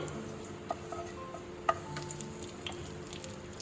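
Two bay leaves and sugar stirred in hot oil for mutton curry: a quiet, faint sizzle with a few light stirring clicks and one sharper tap against the pan, no talk.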